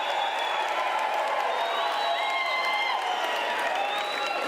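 Audience applause at a UNISA autumn graduation ceremony honoring graduates' loved ones: steady dense clapping throughout with some crowd noise and faint whoops, with murmured voices mixed in.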